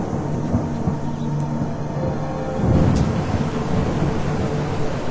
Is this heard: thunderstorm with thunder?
yes